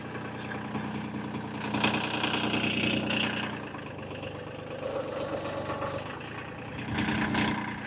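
A tractor engine idling just after being started, a steady low rumble with a faint mechanical clatter that shifts slightly partway through, fairly close and alone with no speech.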